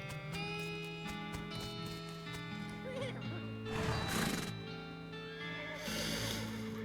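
A horse whinnies in the video game West of Loathing over a steady musical background, with a louder neigh partway through and another near the end.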